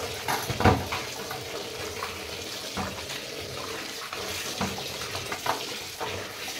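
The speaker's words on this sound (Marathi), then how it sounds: "इथे नळाखाली मी ही भाजी छान अशी धुवून घेणार आहे" A wild leafy vegetable is rinsed under a running kitchen tap. A steady stream of water is broken by repeated splashes and sloshes as the leaves are handled, with no one talking.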